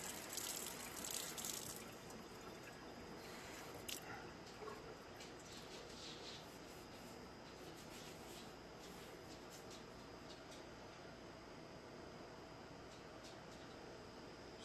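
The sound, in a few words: water rinsing vape tank parts in sink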